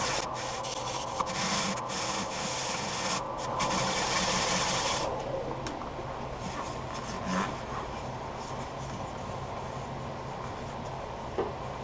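Steel wool rubbed against a spinning wooden chip and dip server on a lathe, a steady close scratchy hiss over the motor's hum, rougher for the first few seconds and then smoother and quieter.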